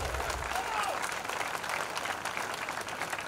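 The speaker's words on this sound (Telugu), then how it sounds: "నరసింహారెడ్డి పెద్దానికి క్లాప్స్ కొడితే హైదరాబాద్ నగరం దద్దరిల్లాలి" An audience of college students claps steadily at an engineering college orientation in Hyderabad, a dense continuous applause with a few voices mixed in.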